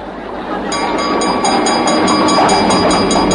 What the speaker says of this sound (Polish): Tramwaj? Widzę. Jakie ogromne konie i wóz taki piękny, niebieski.